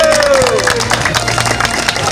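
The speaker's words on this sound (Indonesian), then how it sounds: "Tepuk tangan. Tepuk tangan." Dense, steady clapping from a large crowd of villagers at an outdoor harvest heirloom procession (kirab pusaka tani) in Desa Sumbon, loud and close throughout, with a brief falling tone at the start.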